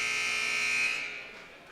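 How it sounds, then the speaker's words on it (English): A loud, steady electronic buzzer at a high school basketball game sounds for over a second, then fades away, with no voices over it. "Buzzer goes to signal the end of the"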